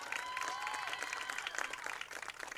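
Crowd applauding at a senior night high school football game, steady sustained clapping from a stadium audience, moderately distant and even throughout.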